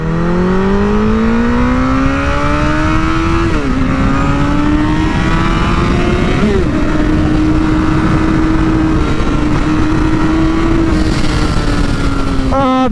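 A 2017 Honda CBR1000RR sport bike pulls hard in full power mode, its engine note climbing steadily through several gears with brief dips at each shift, loud and continuous with wind roar, while a rider talks over it.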